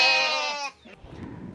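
A goat bleats once, a loud, wavering tremolo call held for over half a second, then cuts off into faint low background noise.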